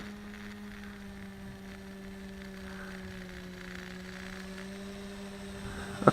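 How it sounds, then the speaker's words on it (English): A WLtoys V383 quadcopter drone flies at moderate distance, giving a steady, even motor hum that holds one tone throughout, with a brief louder bump right at the end. "This quadcopter maintains a lot of momentum."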